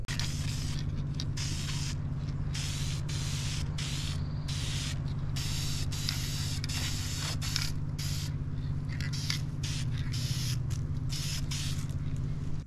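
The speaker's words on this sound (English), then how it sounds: "I'm going to get my Dremel out and I'm going to get to doing that" A Dremel rotary tool cuts a small trench during tilt steering work on a Jeep Wrangler TJ, a loud continuous high whine with gritty grinding that breaks off and resumes in short bursts, close up and without talk.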